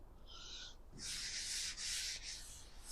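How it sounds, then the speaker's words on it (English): Rhythmic rubbing strokes of wet sanding on the original paint of a 1971 Chevy pickup, a short stroke followed by longer back-and-forth passes, close and quiet. "It's basically a really easy way of wet sanding"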